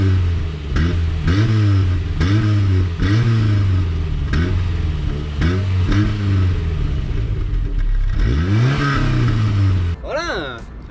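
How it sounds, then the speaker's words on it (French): Renault Twingo phase 1 small engine with a direct exhaust line and one silencer, revved hard in a steady series of loud, close blips that rise and fall about twice per second, ending with one long climbing rev. "Elle fait un bruit plutôt sympathique pour une petite Twingo où on n'a même pas modifié la ligne."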